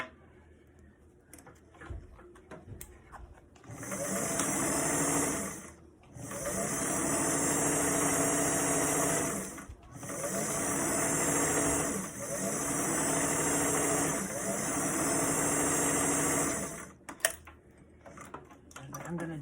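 A sewing machine stitches a bucket hat with red thread, its loud whirring motor running in long bursts separated by short pauses. The machine is close and dominates, with brief quiet moments at the start and end.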